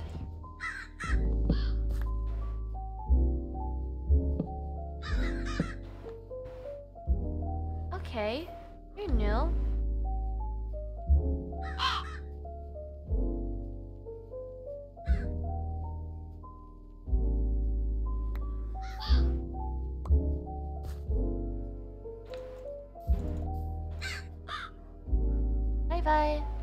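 Crows in modded Minecraft caw repeatedly and loudly through a long stretch, layered over rumbling game ambience, with a person talking briefly now and then.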